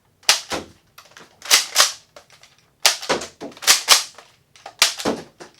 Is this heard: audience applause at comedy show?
no